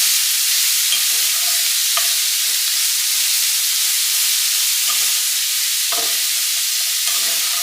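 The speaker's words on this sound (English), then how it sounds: "I'm going to cook these for about 5 minutes until they're turning brown and softened." Food for Zuppa Toscana browns in a hot pan with a steady, loud sizzle, broken by a few soft scrapes and clinks as it is stirred.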